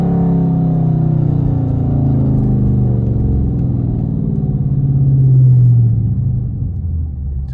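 A Dodge Charger RT with a 5.7 Hemi V8 rumbles loud and close from the cabin, its engine note climbing and falling as it shifts from third down to second.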